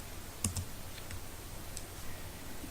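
A few quiet computer keyboard keystrokes, a sharp double click near the start then scattered lighter taps, as a Ctrl+Enter shortcut is pressed to run a database command.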